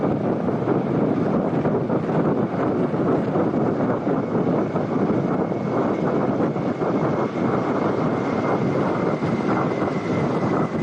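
Dornier aircraft fly past in diamond formation at a naval parade in Visakhapatnam, a steady, loud engine roar with wind rush that holds evenly throughout with no talk.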